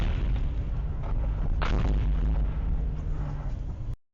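Mortar fire booms in a single heavy muffled blast with a sharp crack at its start, set within a continuous low rumble of distant battle, with no voices present.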